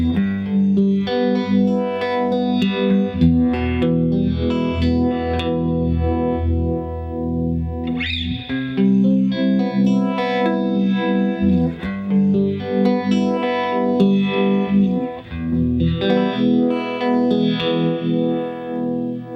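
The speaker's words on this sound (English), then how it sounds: "I'm going to actually blend in our chorus with the vibrato" Electric guitar strumming slow chords through a Dunlop Univibe pedal blending chorus and vibrato, the tone warbling, swirling and pulsing steadily throughout.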